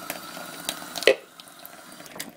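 Water is poured out of a cup while sprouting seeds are rinsed: a short splash and gurgle of liquid stands out in the middle, with faint trickling and drips before and after, close and fairly quiet.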